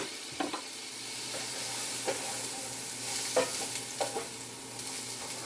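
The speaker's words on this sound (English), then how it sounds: "Yeah, you hear that sizzle?" Onions and green onions sizzle as they are sauteed in a pot, a quiet steady hiss broken by several sharp clinks and scrapes of stirring spread across the clip.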